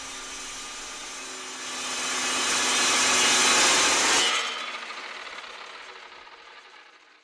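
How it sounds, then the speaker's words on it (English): An Evolution Rage 2 geared head saw cuts through material with a harsh, rising grinding whine, then the blade breaks free and the motor spins down to a fading hum. "Geared head saws such as the Evolution Rage 2 feature a work clamp, unique blade geometry, and slower speed"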